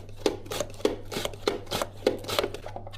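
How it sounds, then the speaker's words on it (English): Peeled potatoes are sliced thinly on a mandolin, giving a steady rhythm of crisp, scraping swipes about every third of a second, close and moderately loud over a faint low hum. "Afterwards, use a mandolin to slice the potatoes thinly."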